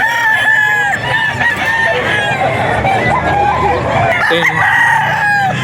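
Roosters crow loudly and repeatedly, overlapping one another with drawn-out calls, while other fowl cluck nearby, at a poultry market in Bocaue.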